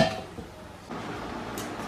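A metal lid set down on a cooking pot with a brief clank, followed by a soft settling knock and quiet kitchen background, no talk.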